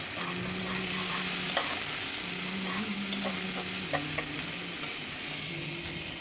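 Ginger-garlic spice paste with turmeric sautés in a pan for a bottle gourd and prawn curry, with soft continuous sizzling and occasional scraping stirs of a spoon.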